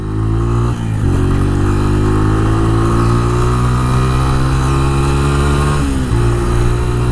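A motorcycle engine running loud and steady through a test ride on a poorly regarded bike, with a strong low droning hum, a brief drop and gear-shift dip near the start and another near the end, no talk over it.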